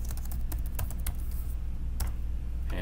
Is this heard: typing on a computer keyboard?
yes